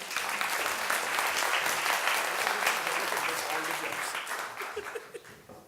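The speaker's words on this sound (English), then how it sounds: "Quick clap for the guys." Conference audience at an agile workshop gives a burst of applause, loud, dense clapping with a few laughs mixed in, holding steady for several seconds before thinning out and fading at the end.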